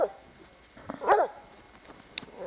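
Dogs out in the snow at play give a short sharp bark, then a brief whimper and a faint yip, scattered over a quiet outdoor background.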